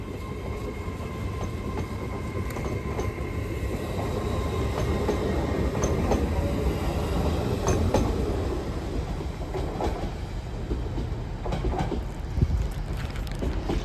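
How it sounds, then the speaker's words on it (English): CrossCountry train 802 202 pulls away toward Edinburgh Waverley, a steady loud rumble of a passenger train on the rails with wheel clatter and faint squeals throughout. "Departing now is 802 202. Cross country Transpan Express service off to Edinburgh Waverley."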